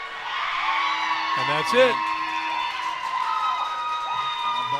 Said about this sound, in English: I couldn't hear the horn with all the crowd noise. That was so loud.